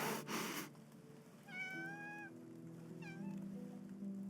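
A cat meows in the video game Love and Deepspace, two drawn-out tonal meows close up after a brief burst of noise, with a low hum underneath.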